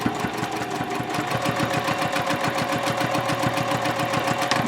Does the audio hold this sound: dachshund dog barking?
no